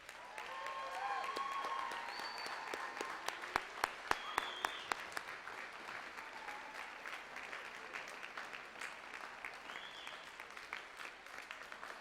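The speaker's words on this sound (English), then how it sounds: "So please give them a rousing round of applause." Audience at a junior high band spring concert applauding graduating band students, a sustained distant round of clapping with scattered louder claps and faint whistles or cheers over it.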